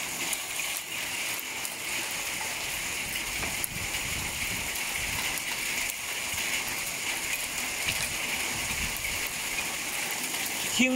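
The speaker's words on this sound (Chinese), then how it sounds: "这边可以听到雨打芭蕉啊" Spring rain falls on banana leaves outdoors in California, a continuous moderate patter and hiss with no voices.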